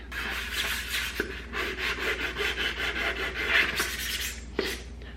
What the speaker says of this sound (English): I'm also still using my sponges and loose sandpaper just to go over and hit areas that are harder to get